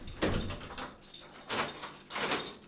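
A house door, apparently a sliding one, is opened, giving several rattling and scraping bursts close by with brief quiet gaps between them.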